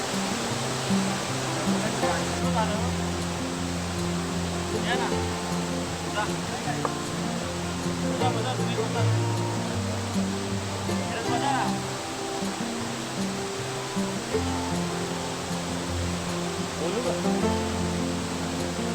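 A hidden forest waterfall near Umrad, Peth, roars as a steady broadband rush of falling water through the whole stretch, with someone talking over it at close range.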